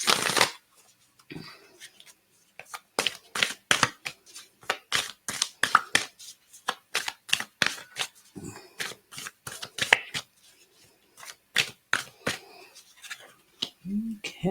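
An oracle card deck is shuffled by hand in a long series of sharp, papery riffles and taps that come in quick bursts with short pauses, close and clear with almost no background.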